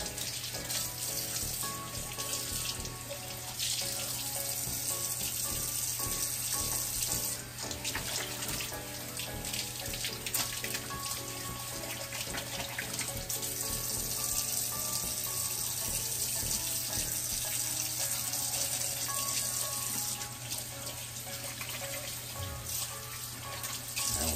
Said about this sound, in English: And wash our hands.